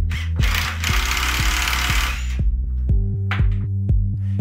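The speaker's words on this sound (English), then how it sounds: "Shear the bolts." A power tool drives and shears the bolts on a cable lug for a 3M QT-III cold shrink silicone rubber skirted termination, a loud steady whirring with rapid, regular hammering pulses close by, then a short quieter pause and further pulsed bursts.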